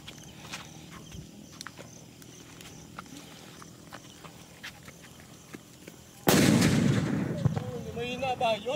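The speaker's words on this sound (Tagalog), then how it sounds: "King Kong regular by Barrett. Ito sige, testingin natin, ha." King Kong regular firecracker by Barrett going off outdoors: quiet ambience with faint ticks and rustles, then one sudden loud blast at about six seconds that decays into rumble and crackle, with voices afterward.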